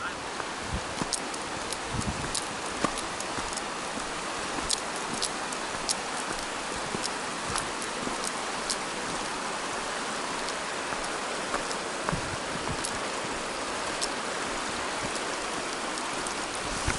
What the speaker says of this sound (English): There's a waterfall trickling all the way down the mountain right now.